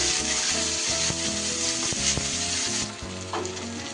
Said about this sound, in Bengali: এবার কেটে রাখা টমেটোটা দিয়ে দিচ্ছি